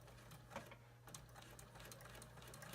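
A sewing machine runs a short stretch of stitching with a quick, steady mechanical chatter, quiet and close over a low background hum.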